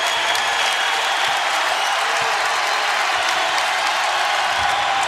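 A basketball crowd at a Northern Iowa Panthers game roars and applauds in a steady, dense wash that holds at full volume throughout, with no single voice standing out.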